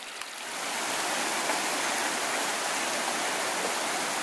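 A mountain stream flows across a White Mountains hiking trail in wintry conditions, giving a loud, steady, close rush of water that fades in at the start and holds evenly.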